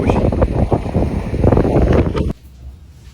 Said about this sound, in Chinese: 外面又是大风啊